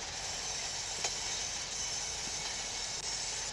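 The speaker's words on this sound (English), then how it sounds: "So we're going to make my train come to a stop." Freight train running in the Train Sim Pro USA railroad simulator game, a steady low rumble and hiss of rolling cars with a couple of faint clanks, moderately quiet and continuous.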